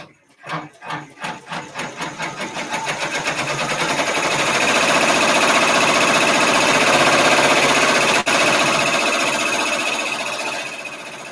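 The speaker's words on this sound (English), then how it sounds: "Now it's going to sew the tack downs." A multi-needle embroidery machine sews tack-down stitches, starting with a few separate thumps that quickly build into a fast, steady, loud mechanical hammering, close by and continuing alone for several seconds.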